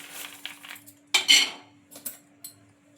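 Raw peanuts tumble into a kadai on the stove, giving a brief burst of light metallic clattering and rattling, followed by a few softer clinks against the pan in an otherwise quiet kitchen.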